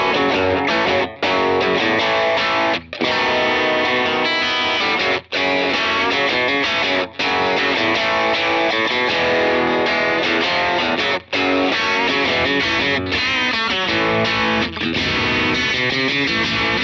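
An electric guitar plays through a Universal Audio Ruby '63 Top Boost tube amplifier plugin with a thick, distorted tone, loud and continuous, broken only by a few brief pauses.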